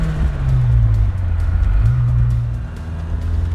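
A 1986 Ford RS200, a rare S-spec example, cruises through neighborhood traffic on Long Island with a steady low engine rumble and a brief pitch dip and recovery midway as it shifts, close and loud throughout.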